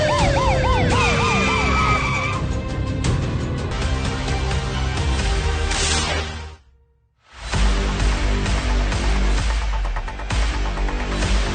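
An ambulance siren wails loudly and close, its rising and falling tone riding over heavy road traffic and engine rumble, with a brief near-silent gap midway before the siren and vehicle noise return.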